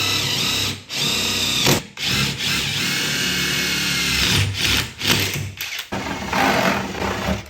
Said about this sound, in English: I am using an Impact with a drill bit adapter